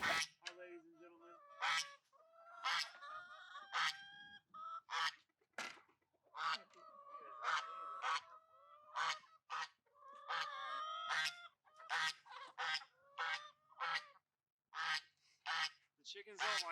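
Chickens on a farm in winter, a loud run of repeated squawks and honking calls close by, dense bursts with brief gaps, a person talking faintly among them.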